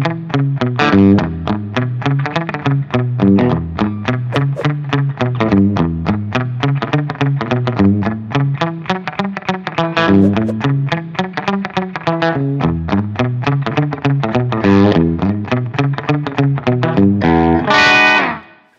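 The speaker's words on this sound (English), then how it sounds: "The sound you might know or also recognize as a bathroom echo sound thing." Guitar played through a Harley Benton Digital Delay pedal set to a short slapback 'bathroom' echo, giving a continuous riff with tight, distorted repeats, loud and alone throughout, ending in a brighter strummed burst.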